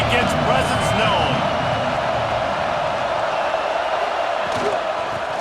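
A stadium crowd in EA Sports College Football 26 roars as a dense, steady wash of cheering and noise, loud and sustained throughout, with a commentator's voice talking over it.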